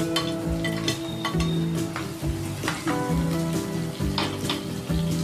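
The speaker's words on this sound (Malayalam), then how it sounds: "ഇതിലേക്ക് 2 സവോള ചെറുതായി അരിഞ്ഞത് ആഡ് ചെയ്ത് കൊടുക്കുക." Chopped onions frying in a pan with ginger and garlic, a close, steady sizzle broken by frequent clinks and scrapes of a spoon stirring against the pan.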